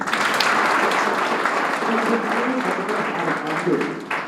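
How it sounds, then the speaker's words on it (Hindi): Audience clapping at a school speech event in Sikar, a dense burst of applause lasting a few seconds with a murmur of voices mixed in. "इसके लिए ताली बजा दो।"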